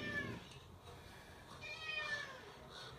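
A house cat meows faintly a couple of times in a quiet indoor room, with the calls thin and somewhat distant.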